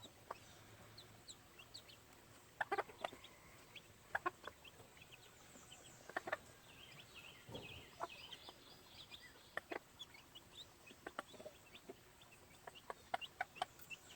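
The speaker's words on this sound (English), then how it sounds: "So mama hen, she'll get it out and break it up for them, call them over." A mother hen among young gamefowl chicks makes soft, repeated clucks at a moderate distance, scattered in short bursts over faint farmyard background noise, with a few sharper calls mixed in.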